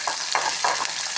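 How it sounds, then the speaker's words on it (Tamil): Masala sautés in a pan for peanut tamarind kuzhambu, a steady sizzle with three or four quick rhythmic scrapes of a spoon stirring through it, close and fairly loud. "இது கொஞ்சம் அப்படியே வதங்கி வரட்டும்"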